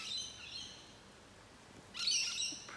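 In a garden during rain, a bird gives high chirping calls, one early and a louder burst near the end, over a soft steady background hiss.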